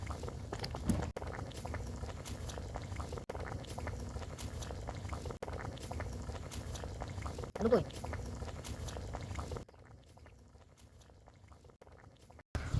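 Noodles for a Korean-style spicy dish boiling in a pot, a soft continuous bubbling and pattering that drops quieter near the end, with a voice talking over it at times.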